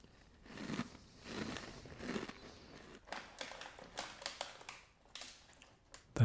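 Close, quiet crunching and chewing of a crisp wheat flake snack mixed with curry leaf and raisins, in several irregular bursts of bites with faint rustling between them and no talking.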